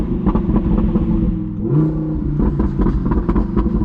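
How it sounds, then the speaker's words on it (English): A 1000 HP Audi R8 accelerating on a night drive in Miami, its exhaust a loud, throbbing roar with a brief dip and pitch jump midway as it shifts gear, then crackles, no voices. "this car already has an insane exhaust"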